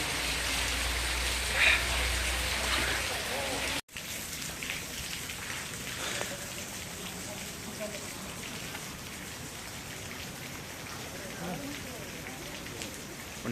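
Heavy rain falling at Pandav Leni caves in Nashik, a steady dense hiss of drops that continues unbroken, with people talking over it early on.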